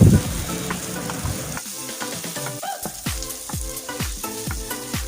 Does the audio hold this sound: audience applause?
no